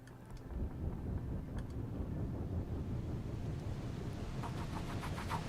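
A Lost Skies airship engine idling along at low speed, a soft steady low rumble with airy wind-like hiss, faint and continuous, no talking.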